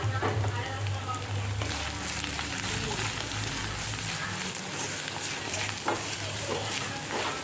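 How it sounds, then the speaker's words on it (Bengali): Spiced fish head mixture with chili powder, turmeric and salt being stirred and sautéed in a pan, a steady close sizzle with scraping stirs, accompanied by a low talking voice. "একটু জল দিয়ে আবার ওটাকে ভালো করে কষিয়ে নিলাম"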